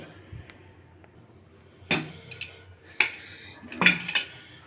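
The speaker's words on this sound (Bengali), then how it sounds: "যে প্রেশার কুকারে এখন খুলে নিচ্ছি" A pressure cooker holding vegetable khichuri is opened, with several sharp metallic clanks and clatters of the lid against the pot spaced over a few seconds, close and moderately loud, with no talking.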